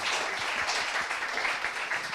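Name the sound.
audience clapping for the women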